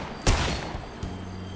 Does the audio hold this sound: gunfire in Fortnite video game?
yes